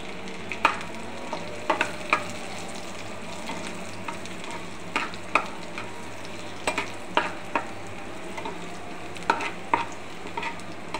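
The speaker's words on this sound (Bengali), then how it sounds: "এখন পাশে আমি কয়েকটা শুকনো মরিচ ভাজা ভাজা করব।" Dry red chillies fry in a pan with a soft continuous sizzle, punctuated by repeated light scraping taps as they are stirred, fairly quiet and without talk.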